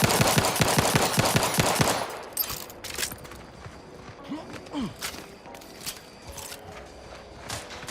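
Rapid automatic gunfire rings out on a live fire range in a video game: a loud, fast burst of shots for about two seconds, followed by scattered single cracks and softer mechanical clatter.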